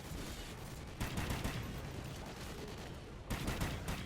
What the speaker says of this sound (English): I'm shooting just with the pistols